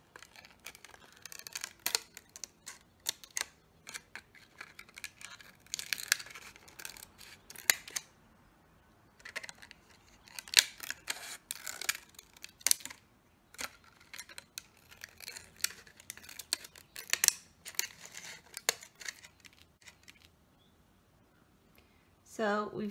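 Small scissors snip plastic flower petals in a quiet room, producing rapid bursts of crisp little clicks and snips that come in clusters with short pauses, while a person talks over them.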